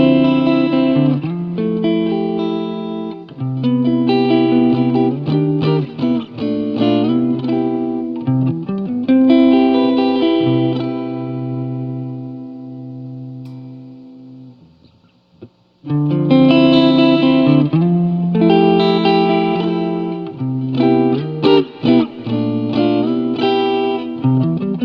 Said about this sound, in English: now that we've heard the single coil in its stacked mode and its split mode